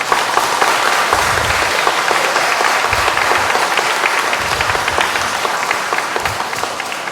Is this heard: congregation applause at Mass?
yes